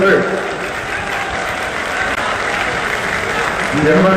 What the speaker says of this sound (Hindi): जोरदार तालियां हर तरफ से